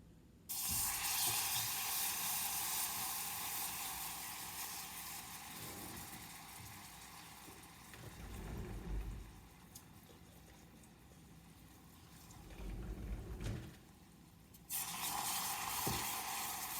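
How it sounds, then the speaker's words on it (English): Hot amber caramel hissing and sputtering as heavy cream is poured in, a loud broad sizzle bursting up at once, easing into a steady steaming hiss with a few bubbling surges, then flaring loudly again near the end. "I'm gonna deglaze with the heavy cream"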